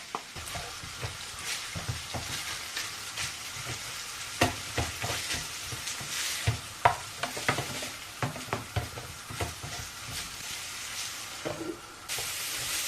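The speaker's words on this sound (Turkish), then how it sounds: "Soğanlarımızı ilave ediyorum buraya." Steady sizzling of chopped onions frying in oil in a hot pan, with scraping and stirring knocks throughout; close, fairly quiet, no voices.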